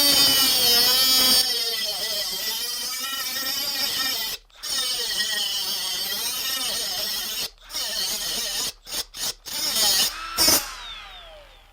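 A Milwaukee M12 FUEL 1/4-inch straight die grinder cuts metal with a loud, high-pitched whine that wavers in pitch as it bites and eases off. Brief stops and restarts break it up near the end before it spins down.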